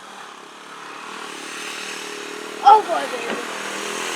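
A Honda Trail 90 motorcycle running in low range on a short test ride, a steady low engine drone building gradually, with someone speaking briefly over it.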